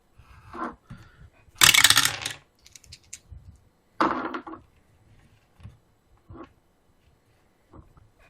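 Dice rattle and clatter across a table during a tabletop role-playing game, with a few short bursts of rolling and tumbling and quiet gaps between them.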